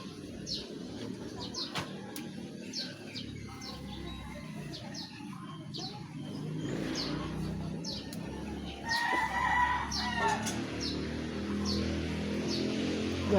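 Chickens cluck in a rural garden on a hot morning, short repeated calls and a rooster crow at moderate distance over a low background murmur.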